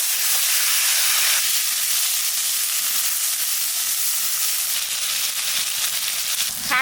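Potatoes dropped into hot oil for a Bengali fish dish with bitter gourd leaves, a loud steady sizzle and hiss filling the pan close up, with no talking.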